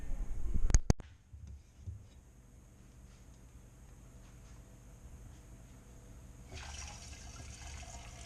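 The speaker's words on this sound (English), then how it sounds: "we're going to pour the wort through the strainer into the funnel and into the jar for fermentation" Home-brewed beer wort poured through a strainer and funnel into a fermentation jar, a brief sharp clatter at the start followed by a steady low trickle and splash, with the flow swelling again near the end.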